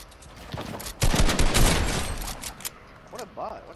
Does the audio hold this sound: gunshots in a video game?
yes